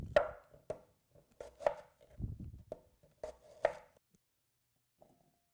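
Knife chopping a cob of corn and an Asian pear into chunks on a cutting board, a series of sharp, close thuds in an irregular rhythm with brief pauses, then quiet.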